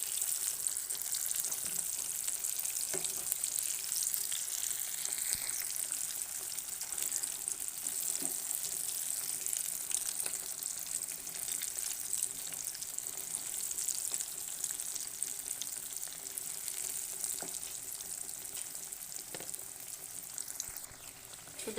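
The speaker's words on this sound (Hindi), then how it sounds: "तो देखिए फ़िश जो है फ्राई हो चुकी है" Fish frying in a pan for a home Hindi-Urdu cooking dish, giving a steady, fairly faint sizzle with soft crackles and the odd click of a utensil, continuing without pause and with no talk.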